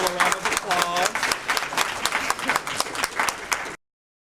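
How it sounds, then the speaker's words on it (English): An audience gives a round of applause at a university lecture session, dense clapping at steady strength for several seconds before it cuts off abruptly. "All right, a round of applause."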